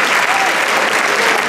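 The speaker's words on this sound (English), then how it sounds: "Let's give them a round of applause" Loud, dense crowd applause for the judges at a live show, a steady wash of many hands clapping without pause, close and sustained throughout.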